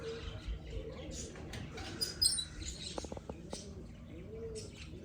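Pigeons coo in bursts at a home loft, mixed with short chirps and close, low rustling, while voices talk nearby.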